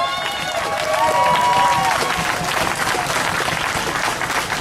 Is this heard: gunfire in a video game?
no